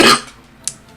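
A single loud, harsh cough bursts at the start and fades, followed a moment later by a brief, sharper throat-clearing sound, with no talking.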